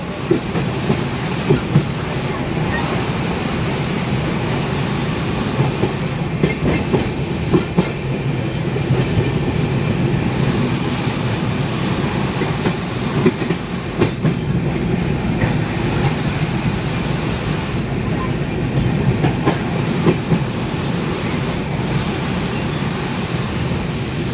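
Sairang Express passenger train crossing the Farakka Barrage, heard from inside a coach: a loud, steady rumble with rhythmic clickety-clack of wheels over rail joints, continuous throughout, no voices.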